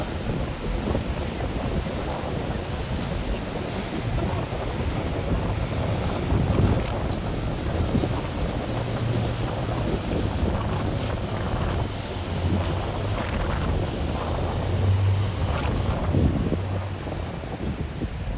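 Speedboats running alongside a navy ship on open sea during a joint Australian Navy exercise, a steady churning engine roar and water wash buffeted by strong wind noise, continuous and fairly loud.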